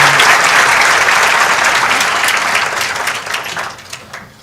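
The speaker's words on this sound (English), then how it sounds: "round of applause" An induction and orientation audience for first-year MBA students gives a loud, sustained round of applause that starts full and tapers slightly toward the end, with no talking over it.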